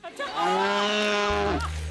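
A water buffalo moos in one long, steady, drawn-out call lasting almost two seconds. It is loud and close, set within a stage comedy show.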